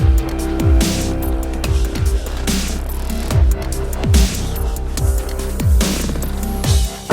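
A 2015 Vauxhall Viva with a 5-speed manual gearbox driving, its engine note rising and dropping repeatedly with regular gear changes about every second, close and loud with no talking.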